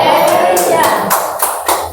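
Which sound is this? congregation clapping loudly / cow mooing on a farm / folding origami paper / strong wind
congregation clapping loudly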